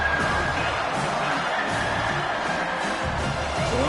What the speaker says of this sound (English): Here comes the crowd noise.